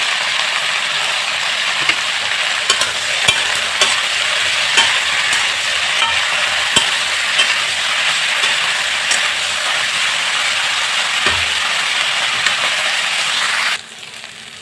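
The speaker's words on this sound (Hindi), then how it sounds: "अब हल्का लाल नीचे तक ले हम दोनों सब्जी के भूज ले हैं" Potatoes and beans fry in hot oil with a loud, steady sizzle and occasional clicking stirs from a utensil, close up, until the frying sound drops away abruptly near the end.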